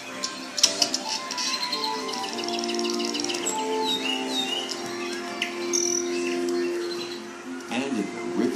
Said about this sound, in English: And more birds.